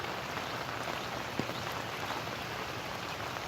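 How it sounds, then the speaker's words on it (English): Heavy rain falls steadily during a morning walk past ivy, a dense, even hiss of drops close around the listener with no talking. "I've done it when it was sprinkling, but not when it was raining quite like this."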